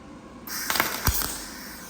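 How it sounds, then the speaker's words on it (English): Tack welding on a Ford disk harrow: a short burst of crackling arc buzz with a sharp pop, close and fairly faint, with no talk. "here she goes welding"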